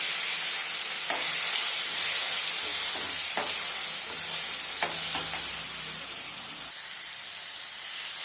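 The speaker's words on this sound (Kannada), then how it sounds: "ಈರುಳ್ಳಿ ಮತ್ತು ಬೆಳ್ಳುಳ್ಳಿ ಚೆನ್ನಾಗಿ ಫ್ರೈ ಆಗಿದೆ ಈಗ ಎರಡು ಟೊಮೊಟೊ ದೊಡ್ಡ ಸೈಜು ಅದು ಹಾಕ್ಕೊತಾ ಇದ್ದೀನಿ" Two large tomatoes added to onion, garlic and curry leaves frying in a pan for garlic rasam, giving a loud constant hissing sizzle with a few soft stirring knocks and no talking.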